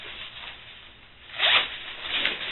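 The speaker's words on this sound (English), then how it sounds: "And there's another zip bag." A zipper pulled along a zip bag on a backpack, a close raspy zip that builds and repeats in short strokes, with no talking.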